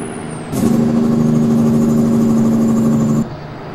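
A steady, loud show-truck engine drone in American Truck Simulator with a strong low hum, starting abruptly and cutting off after a few seconds, with a faint high whine above.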